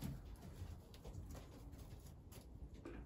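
A racing pigeon hen coos softly in low, muffled murmurs, faint and close against a steady background hiss.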